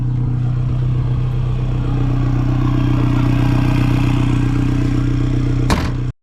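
A manual-swapped Subaru WRX with a Fender exit exhaust idles with a steady, low, droning rumble, close and loud, holding even before a brief clatter and an abrupt stop.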